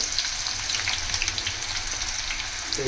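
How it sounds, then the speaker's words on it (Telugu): Onions frying in hot oil for biryani, a close, continuous crackling sizzle with bursts of spitting and light stirring, no voices. "ఆయిల్ కొంచెం వేడెక్కాక మనం ఆనియన్స్ ఫ్రై చేసుకుందాం"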